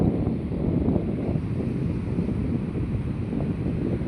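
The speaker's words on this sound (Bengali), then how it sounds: "এটা হইল সমুদ্র।" Waves and wind at a seashore, a steady broad rush of surf with gusty wind buffeting the microphone, continuous and fairly close with no talk.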